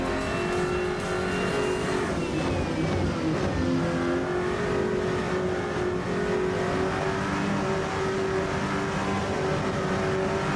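A GT3 race car engine in a racing video game roars loud and continuous, holding a high, steady howl with shifting pitch, and gear whine is largely filtered out.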